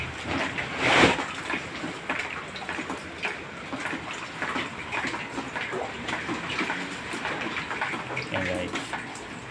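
Typhoon rainwater pours through a house ceiling indoors, a continuous splashing, gushing trickle with a louder surge near the start, heard close with faint voices in the background.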